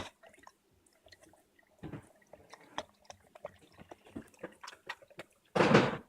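Intermittent wet squishing and sloshing from stirring a natural yeast starter with water in a quiet room, ending in a louder burst of splashy noise.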